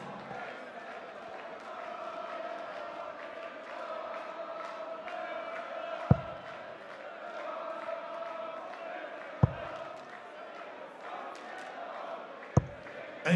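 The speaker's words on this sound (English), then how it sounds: "I think the crowd are starting to sing Dave Chisnell" Darts crowd in Düsseldorf singing a player's name, Dave Chisnall, in a sustained chant that fills the hall, with three sharp thuds of darts striking the board cutting through it.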